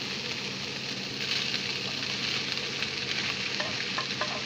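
Salmon fried rice hisses and sizzles steadily in a hot wok, a dense close frying noise with light scraping and tossing of the rice, a few crisp clicks of the utensil near the end.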